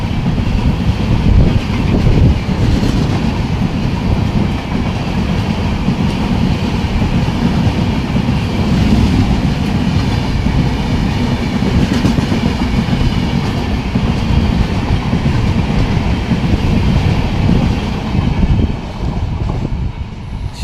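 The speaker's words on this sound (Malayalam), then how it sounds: "ശബരി സൂപ്പർ ഫാസ്റ്റ് ഇതാ കടന്നു പോയിരിക്കുന്നു" The Sabari Superfast Express, running from Secunderabad to Thiruvananthapuram Central, thunders steadily through Irinjalakuda railway station close by, its wheels clacking in a loud, continuous rumble for about twenty seconds.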